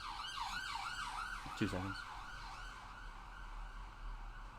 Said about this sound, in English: there's a police car going by